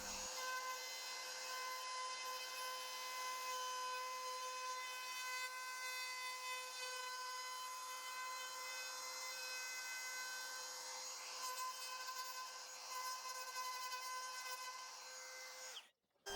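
A CNC router with a 90-degree bit cuts a quarter-inch bold line around a horse head carved into a wood board. It gives a steady, high-pitched tonal whine with a constant drone that runs unbroken before cutting off at the end.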